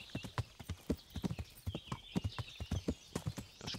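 A horse's hooves clip-clop at a steady walking pace in Kingdom Come: Deliverance, crisp regular footfalls over a faint outdoor ambience with light high chirping.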